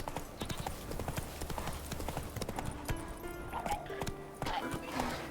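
Rapid rhythmic hoofbeats of Roach, the horse in The Witcher 3, galloping at close range, with a short whinny and game sound effects mixed in.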